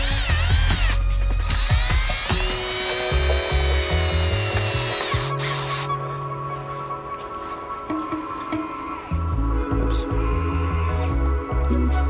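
A power drill drives screws into a wall during a supercar build, giving loud whirring runs with pitch changes, ratcheting clicks and brief pauses between bursts.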